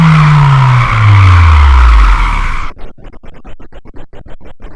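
A car's tyres and brakes squealing in the Assetto Corsa racing game, a long loud screech that slides downward in pitch, then breaks into a rapid series of short chattering bursts.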